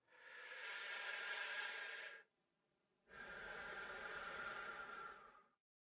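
A voice imitates a sleeping patient's odd breathing: two long, loud hissing breaths, each about two seconds, separated by a short quiet pause, heard alone without other talk.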